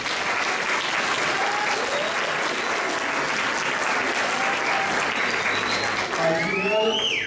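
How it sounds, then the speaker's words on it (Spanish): An audience at a psychopedagogy conference applauds after a speaker's talk, with loud continuous clapping filling the room throughout and a few faint voices near the end. "Es un aplauso, por favor."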